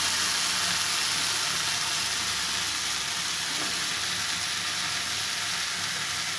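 Potatoes frying in a pan with a little water added to a fish and tomato dish, giving a steady, loud, broadband sizzle and hiss that runs unbroken throughout with no voices.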